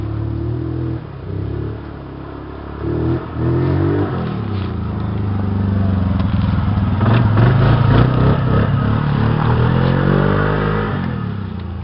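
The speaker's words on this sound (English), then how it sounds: "That is one badass ATV" An ATV engine revving and pulling close by outdoors on a muddy trail ride, a loud rough drone that rises and swells steadily as the machine accelerates, with no talking.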